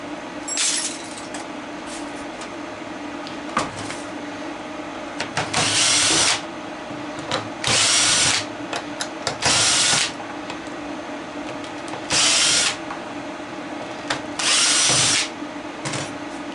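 A power drill backs screws out of a headless horseman's horse prop being scrapped for copper-bearing motors, whirring in five or six close, loud bursts of one to two seconds each, with clinks and handling noises between.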